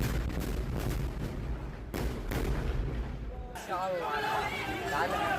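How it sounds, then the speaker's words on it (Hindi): Explosions from attacks in Khan Younis, as seen in news footage: loud, dense booming and rumbling that rolls on without a break, with crowd noise mixed in. The sound shifts partway through as the footage cuts to another scene. "खान यूनिस में जो धमाके हो रहे हैं उसकी तस्वीरें आपके सामने।"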